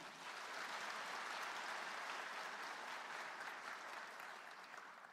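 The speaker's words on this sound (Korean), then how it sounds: "큰 박수 한번 부탁드립니다" Audience applause at a public hearing in Haenam, a steady, dense wash of clapping from a large indoor crowd that holds evenly throughout and eases slightly toward the end.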